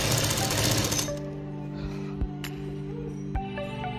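A sewing machine stitches fabric for a baby's kurta jacket, giving a loud, rapid mechanical rattle for about a second before stopping abruptly, leaving a steady low motor hum and a couple of sharp clicks. No one speaks.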